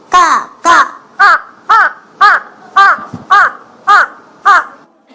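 A human voice imitates a crow, giving nine evenly spaced, loud caws in a steady rhythm with no other talk in between.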